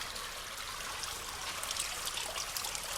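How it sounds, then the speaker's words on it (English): A small indoor waterfall with fish, in a planted room at Harlaxton Manor, trickles and splashes softly in a faint, steady, continuous wash of water with no voices. "Here's a little waterfall."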